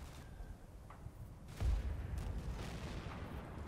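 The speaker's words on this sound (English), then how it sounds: "And more mortars down there." Mortar fire in the Combat Mission: Battle for Normandy wargame, a single dull boom thudding in mid-clip over low rumbling battlefield ambience, moderately distant.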